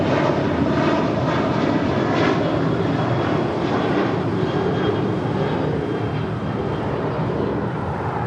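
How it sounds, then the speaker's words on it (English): A Southwest Airlines Boeing 737-700 takes off from LAX, engines giving a steady, loud, broad roar with a low rumble that holds evenly throughout. "That was Southwest Airlines flight 1195 heading to San Antonio, Texas at a 737-700"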